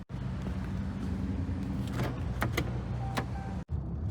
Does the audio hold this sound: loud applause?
no